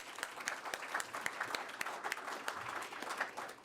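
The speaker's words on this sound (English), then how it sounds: "A big round of applause." An audience at a candidate forum event gives a short round of applause, a moderate, crackling patter of many hands clapping steadily, heard from a little distance.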